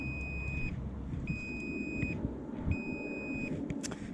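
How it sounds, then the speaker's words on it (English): A multimeter set to continuity beeps across brake-light wires on a BMW K100 cafe racer as the brake pedal is worked: three sustained, clear, high electronic tones, evenly spaced, over a low background hum. "I got my multimeter set to ohms, and she beeps when we got a short circuit"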